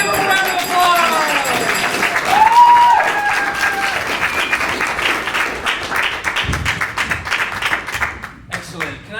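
Audience applause and cheering at an improv class showcase, a dense burst of clapping from a crowd that swells early, then fades gradually over several seconds, with some voices mixed in.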